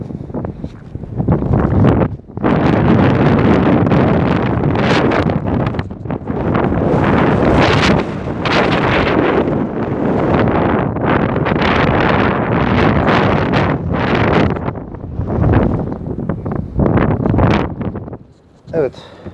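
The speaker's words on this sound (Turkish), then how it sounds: "Oldukça hava Rüzgarlı burada." Loud wind gusts buffet the microphone, producing heavy rumbling roars that come and go, with a voice faintly audible beneath.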